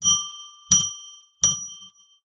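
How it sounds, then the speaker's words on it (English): A small ritual bell is struck three times at an even, unhurried pace, each clear ring sustaining and fading before the next, alone in a quiet room. "I'm going to ring a bell 3 times to declare sacred space"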